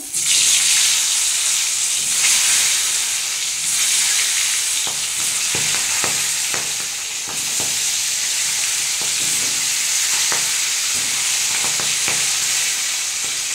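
Ripe pointed gourds, rubbed with salt and turmeric and slit down the middle, fry in hot oil with a steady, loud, close sizzle and crackle, broken by occasional sharp pops and stirring clatter throughout.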